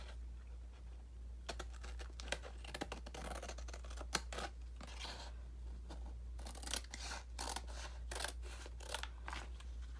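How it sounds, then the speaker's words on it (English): Scissors snip through cardboard box pieces in a quick irregular series of crisp cuts and rustles, close and fairly quiet over a low steady hum, with no talk. "Then we're going to go ahead and cut these out. And I usually just do that with scissors."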